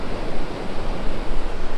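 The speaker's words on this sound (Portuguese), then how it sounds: "estão umas ondinhas engraçadas" Ocean surf from a session filmed on a GoPro Hero 9 with the Max Lens, a steady loud wash of breaking waves with rushing broadband noise and low rumble throughout, close and continuous with no voices.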